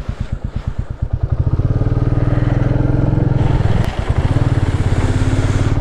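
Motorbike ridden on a muddy, rain-soaked off-road mountain track in North Sikkim, its engine chugging in a steady rapid pulse, loud and close, rising slightly as it pulls along.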